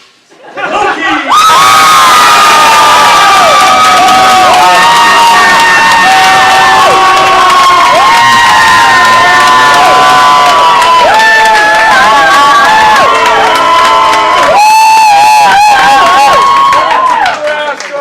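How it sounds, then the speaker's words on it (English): A live studio audience at a geek-versus-nerd game show roars with sustained cheering, shouting and whoops, loud and dense for most of the stretch, dipping briefly before swelling again. "Thank you very much for coming out and cheering incessantly for us."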